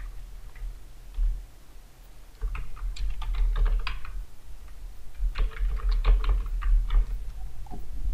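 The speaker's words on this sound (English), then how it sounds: "type your file name" Fingers tap a file name on a computer keyboard in a steady patter of close key clicks, broken by a short pause early on, with no speech over it.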